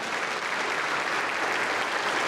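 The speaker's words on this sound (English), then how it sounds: "You're clapping for yourself." A church congregation applauds steadily and densely for about two seconds, a warm, even wash of many hands clapping together with no break and no voices standing out.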